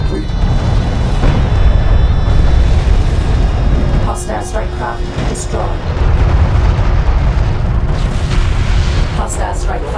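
Strike craft blowing apart in a desert real-time strategy battle in Homeworld: Deserts of Kharak, a dense stretch of deep booming explosions and bursts that stays loud for the whole span, with sharper pops breaking through mid-way and again near the end.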